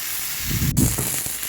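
Eggplant and drumstick pieces fry in hot oil, giving a brief, soft, continuous hiss with a faint bubbling crackle underneath, close and alone.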